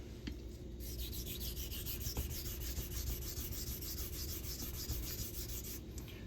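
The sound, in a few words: vintage straight razor honing strokes on a coticule stone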